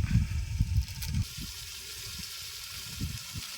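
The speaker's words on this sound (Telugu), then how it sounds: "ఇప్పుడైతే నీళ్ళు అయితే కొద్దిగా పోసుకుందాం" Water poured from a vessel into a pot of country chicken curry with chilli and chicken masala, a short gushing splash in the first second or so, then quieter liquid sounds and a low hum.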